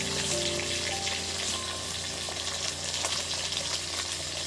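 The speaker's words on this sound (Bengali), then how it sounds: "চলছে বন্ধুরা চিতল মাছ ভাজা" Pieces of chitol fish fry in hot oil with a steady, close hiss and fine crackle that carries on without a break.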